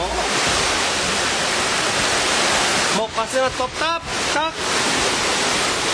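Floodwater pours into houses in Bacolod City after a typhoon, a loud, steady rushing roar of water throughout, with a voice speaking over it in the later part.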